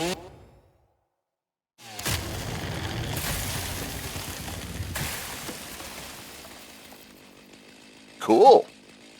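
Chainsaw felling trees in the video game Satisfactory, a sustained buzzing, rasping roar running several seconds with surging swells, followed by a short loud burst near the end.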